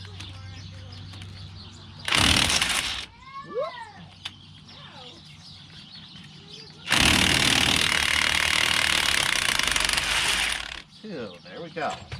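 A power tool works on the rear wheel knuckle bolts in two loud, harsh bursts, one short and one long, with quieter clanking and squeaky mechanical sounds between them.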